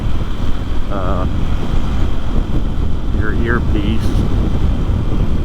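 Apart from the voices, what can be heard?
wind noise while riding a Honda XR150L motorcycle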